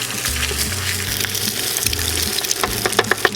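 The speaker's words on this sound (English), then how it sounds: "Wait till it's hot, and then we're going to add in 2 eggs." Two eggs frying in hot oil in a pan, a steady close sizzle with some stirring and scraping, and a few crisp pops toward the end.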